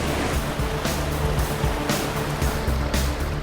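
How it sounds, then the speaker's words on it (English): Heavy floodwater pours over a reservoir weir after overnight rain, a loud, continuous roaring rush with surging bursts, close and unbroken. "heavy rain overnight has turned the reservoir's gentle weir into a torrential waterfall"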